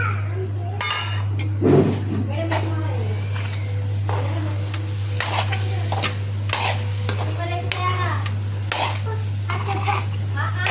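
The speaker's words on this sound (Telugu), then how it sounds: "అలా మూత పెట్టుకుందాం కాసేపు కలుపుకుందాం" Egg curry being stirred in a pan, with steady scraping and clinking of a spoon against metal over a soft sizzle and a constant low hum, mostly without talk.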